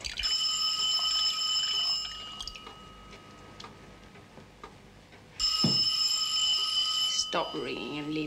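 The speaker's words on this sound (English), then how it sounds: "Stop ringing and leave me in peace. Peace? Anyway, shut up. Shut up, I said. I beg your pardon, madame. Shall I answer the telephone?" An old telephone bell rings in two long, loud, trilling bursts with a quieter gap between them. Talk runs under and between the rings.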